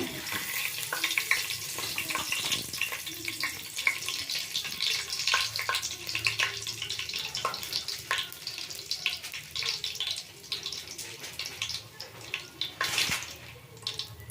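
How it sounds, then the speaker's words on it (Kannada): Whole spices crackle and sizzle in hot oil for a pulao, a dense, continuous hiss with scattered pops that stays loud and steady with no talking. "ಈಗ ಎಣ್ಣೆ ಕಾದಿದೆ ನಾನು ಈ ಮಸಾಲೆ ಎಲ್ಲ ಹಾಕ್ಕೊಳ್ತೀನಿ"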